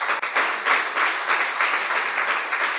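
An audience claps in steady, even applause, fairly close and continuous for about three seconds.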